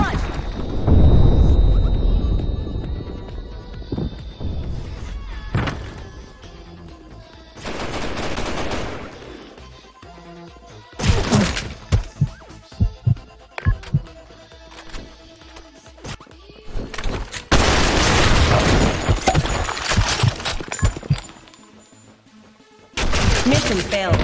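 Grenade blasts and bursts of gunfire in the online shooter Blackshot on the Broken City map, loud repeated explosions and rapid shots in clusters, with game voice callouts between them.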